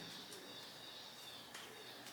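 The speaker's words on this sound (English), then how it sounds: "I don't know if you can hear my birds. They're upstairs and they're going insane right now." Pet birds calling from an upstairs room, heard as faint, distant chirps and coos over a steady hiss, with no nearby voices.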